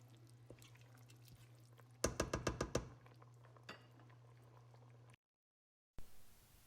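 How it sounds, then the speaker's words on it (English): Creamy alfredo sauce simmers in a pan, giving faint, soft bubbling with a quick burst of popping bubbles in the middle and a brief gap of silence toward the end. "We're just simmering it away so that it will become a little bit thicker"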